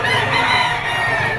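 A stag rooster crows amid a livestock auction market's steady crowd noise, one continuous call running loud through the brief moment, with other fowl clucking nearby.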